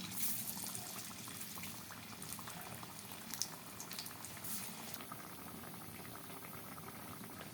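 Oil bubbles and sizzles steadily in a pan at moderate volume over low heat as semolina palm-fruit pithe fry, a continuous crackling hiss with a few faint clinks, no voices.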